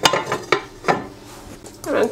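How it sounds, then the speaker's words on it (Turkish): Yogurt, lemon juice and egg yolk are whisked in a bowl, producing quick close clinks and scrapes of utensil against the dish, several sharp strokes and then a denser rattle. "Hemen çırpıyorum."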